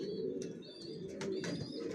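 Young racing pigeon chicks of a long-distance Johnson line make faint squeaky chirps and soft coos over a steady low background hum, close by and quiet.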